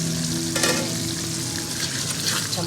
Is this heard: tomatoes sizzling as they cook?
yes